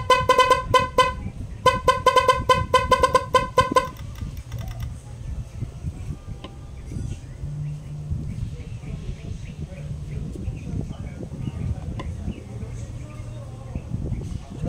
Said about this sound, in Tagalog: Pag pinpress mo yung horn, magdidikit siya.